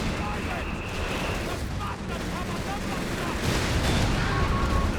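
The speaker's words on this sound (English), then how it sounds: "More whiz-bang shots, though." Whiz-bang artillery shots in Company of Heroes 3 during a 4v4 battle on Monte Cavo: continuous rumbling, crackling battle noise with dull booms that swell louder toward the end.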